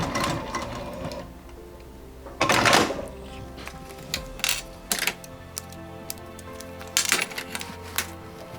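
A sewing machine stitches a fabric bag, running in short bursts separated by pauses and clicks of handling, fairly close and moderately loud with no talk.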